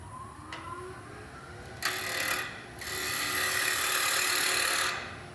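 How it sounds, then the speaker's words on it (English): A wood lathe turns a tenon on a piece of scrap maple, the steady spinning hum joined by a tool scraping the wood in two sustained, close passes separated by a short gap. "I'm going to turn a tenon on here that's going to match the inner diameter"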